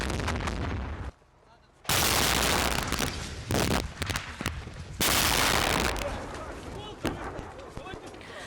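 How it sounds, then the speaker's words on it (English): Bursts of gunfire crack out in loud clusters with short gaps between them, harsh and close, mixed with voices, in a town just outside Donetsk in East Ukraine. "Those were shots from a town just outside Donetsk in East Ukraine."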